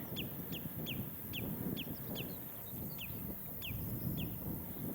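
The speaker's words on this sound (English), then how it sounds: "my bird nerd app reckons that noise is coming from a common redshank" Repeated sharp, high calls of a common redshank near an Essex estuary path, about a dozen evenly spaced piping notes over steady wind noise and faint outdoor rumble, moderately distant.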